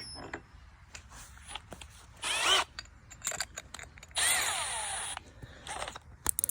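A Milwaukee M12 Fuel cordless drill bores with a 1/2 inch bit in two short bursts of high whirring, with quieter clicks and handling noises between them and no talk.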